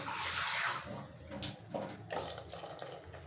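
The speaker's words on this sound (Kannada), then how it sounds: "ಇದಕ್ಕೆ ನೀರು ಸೇರಿಸ್ತೀನಿ ಸ್ವಲ್ಪ" Water is poured into ground fish curry paste for an angel fish curry, a soft, continuous splashing that is fairly quiet and heard on its own without talk for about three seconds.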